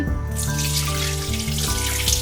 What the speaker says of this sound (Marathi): हरभऱ्याची डाळ स्वच्छ धुवून घेते